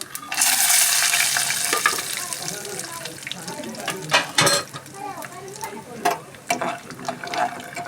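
Lentils and peanuts frying in a pan for tamarind rice, giving a loud, steady sizzle with scraping stir strokes and someone talking over it.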